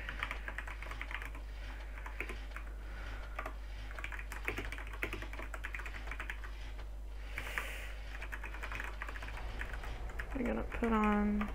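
Quick, uneven keystrokes rattle on a computer keyboard nearby over a steady low hum, continuing throughout, with someone speaking briefly near the end.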